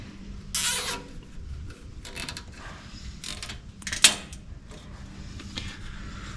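A zip tie ratchets tight around a cable on a Scooterx Sportkart 196cc go kart, giving a few quick clicking zips with soft handling noises between.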